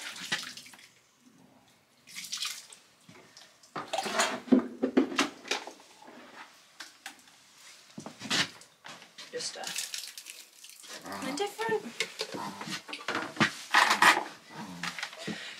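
Water runs from a tap into a container to soak horse feed with sugar beet in a stable, splashing in irregular close bursts alongside clattering. A person talks over part of it.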